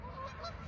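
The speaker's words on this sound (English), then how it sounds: "look at these geese" Geese honking faintly at a distance, a short stretch of overlapping calls against outdoor background noise.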